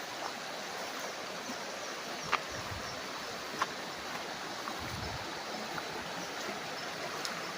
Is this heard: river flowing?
yes